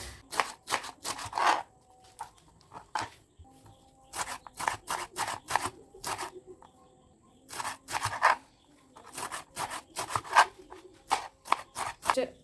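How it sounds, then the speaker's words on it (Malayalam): Vegetables are chopped finely on a board for thoran in quick bursts of sharp knife taps, separated by short pauses, close and crisp with no speech. "കഴുകി വൃത്തിയാക്കണം ചെറുതായിട്ട് അരിയൊക്കെ ചെയ്യാം"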